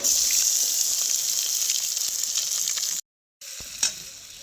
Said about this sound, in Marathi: तर कांदा टाकून घ्यायचा सगळा.